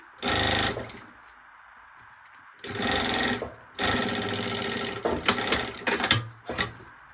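A sewing machine stitches bias binding onto a maternity bag in three bursts of close, rapid whirring, the last broken into short runs, with quiet pauses between.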